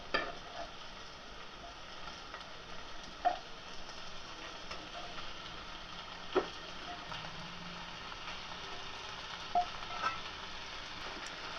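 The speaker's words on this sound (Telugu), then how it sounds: "ఈ చికెన్లో ఈ ఆనియన్స్ ఈ మసాలాలన్నీ బాగా కలుపుకోవాలి" Fried chicken being mixed with onions and masala for chicken dum biryani, a quiet, steady scraping of the spoon with occasional sharper clicks and taps against the pot, no voices.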